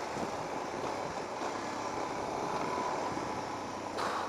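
Steady, rough wind-blown rumble of a DRZ400SM motorcycle riding over bumpy gravel, with continuous broadband road and wind noise close to the microphone and no talking.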